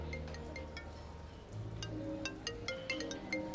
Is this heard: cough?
no